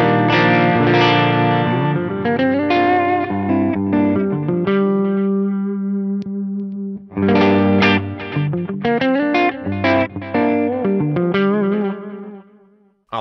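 An electric guitar played through the Shiva clean amp model on an Axe-Fx Ultra rings out in loud chords and picked notes, sustaining and decaying before a second strummed passage, with no voice.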